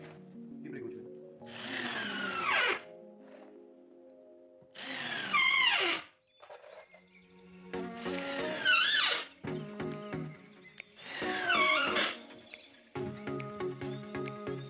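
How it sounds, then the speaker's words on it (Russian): A power drill driving 40 mm self-tapping screws while building a wooden pouf, several separate whirring bursts of a few seconds each rising and cutting off, close and fairly loud, with gaps of near quiet between them. "И берем 40-е саморезы, и прикручиваем."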